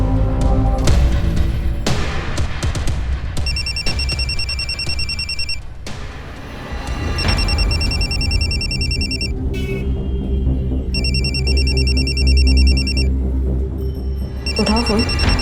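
A telephone rings with a repeated electronic trilling ringtone that carries on in bursts over a dense background of music and room noise.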